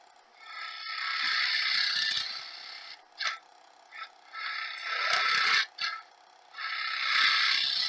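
A wrench ratchets while adjusting a machine cutter: three long stretches of steady, close mechanical clicking, with a few short isolated clicks and pauses between them.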